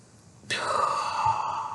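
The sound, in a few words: deep breath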